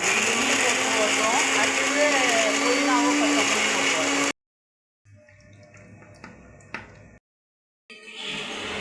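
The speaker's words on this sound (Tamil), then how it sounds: "இறக்கி ஆரட்டம் மிக்சியில் அரைக்கலாம்" A mixer grinder whirs loudly and steadily while grinding cooked mint and coriander with garlic for a pickle, then cuts off abruptly, leaving quieter clinks and handling noises and a short return of sound at the end.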